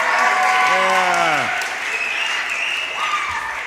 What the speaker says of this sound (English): give her a cheer